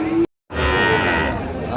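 A Sahiwal breed bull calf on a Netrokona farm gives a loud, close, drawn-out moo, briefly cut by a short dropout before the call resumes.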